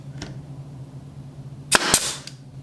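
A WEN 61721 brad nailer fires a nail into hardwood, giving two sharp, close pops in quick succession over a faint steady hum, fairly quiet for a power tool.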